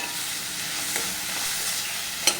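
Onions fry with green chilli, ginger and garlic paste in a pan, an even sizzle under repeated spoon stirring, with a sharp clack of the utensil near the end.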